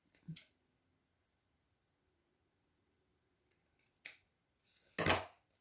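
Scissors snipping card paper for a handmade birthday card, three short isolated cuts at the start, around four seconds and near the end, with quiet gaps between them.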